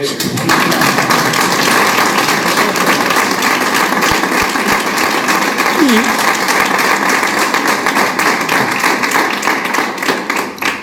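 Dense, steady applause from an audience at a book presentation, a continuous wash of many hands clapping at full loudness throughout, with faint voices mixed underneath.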